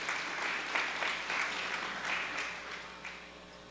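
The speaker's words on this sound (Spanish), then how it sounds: "Un aplauso para ellos y los invitamos al escenario" Audience applause welcoming speakers onto the stage at a sustainable finance forum, a steady fairly quiet wash of many hands clapping with slight swells, no talking over it.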